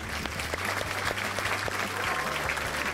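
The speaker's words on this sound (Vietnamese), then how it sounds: "Vỗ tay nào." Studio audience applauding on a Vietnamese family game show, a steady wash of many hands clapping with a low musical hum beneath, continuous and fairly close.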